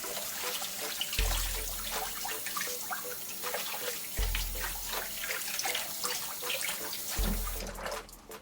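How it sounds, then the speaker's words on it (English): Tap water runs steadily and splashes as a stained item is rinsed clean. The rushing sound is close and continuous, with a few brief changes in the flow. "I'm going to rinse it so you can see it."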